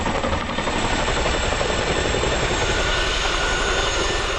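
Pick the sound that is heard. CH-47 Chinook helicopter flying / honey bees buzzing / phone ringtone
CH-47 Chinook helicopter flying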